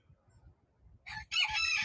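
Chickens kept in a chicken hotel outhouse beside a houseboat, with a rooster crowing loudly near the end after a short burst of clucking over low background murmur.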